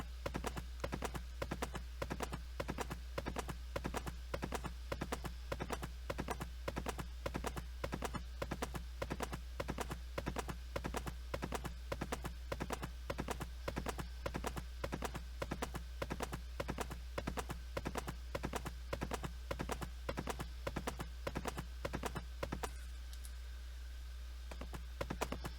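A ridden horse's hooves clip-clop in a video game, a long, metronome-steady beat over a constant low hum that stops near the end.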